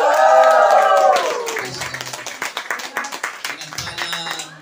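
A church congregation at a Mass claps joyfully after a voice fades, the claps building into a brisk, uneven patter of many hands that runs to the end.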